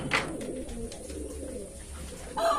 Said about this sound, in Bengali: পায়রাগুলো মোটামুটি চান করছে।